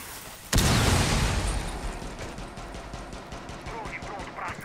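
A loud burst of gunfire erupts in the video game Rainbow Six Siege during a ranked match, a sudden blast followed by a decaying rumble and rapid repeated shots, with speech faintly underneath.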